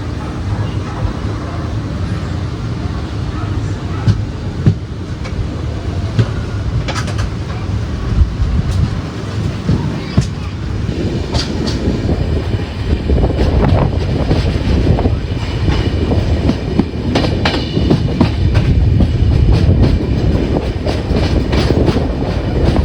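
Netravati Express passenger train running between Haripad and Kayamkulam Junction in Kerala on the LTT to Trivandrum Central route; continuous rumbling wheels with rhythmic clickety-clack and wind noise, growing louder toward the end.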